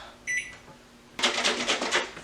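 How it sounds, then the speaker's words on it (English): A microwave oven runs while melting butter in a bowl for a cheesecake recipe: a short beep, then the low hum of the oven with rattling, clattering bursts as it starts, close and fairly loud. "We're going to stick this in the microwave for the butter to melt."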